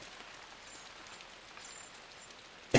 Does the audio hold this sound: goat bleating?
no